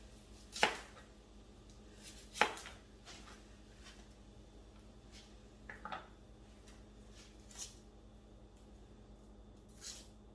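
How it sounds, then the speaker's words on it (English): A knife chops onions on a board for cabbage rolls, with a handful of separate sharp thuds spaced irregularly across a quiet room, faint and with no talking. "I'm going to chop up my onions"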